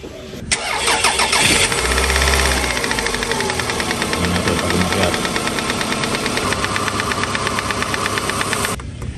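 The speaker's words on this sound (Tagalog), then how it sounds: "Nakita na namin talaga kung anong problema ng RAV4. Kalug lahat yung mga piston niya." A Toyota RAV4 engine starts and runs with a steady, rapid metallic knocking from loose pistons, loud and close, continuing evenly for about eight seconds with no talking.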